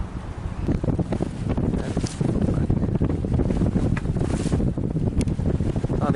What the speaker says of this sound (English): Yeah, we've got a bit of wind.